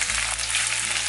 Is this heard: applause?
no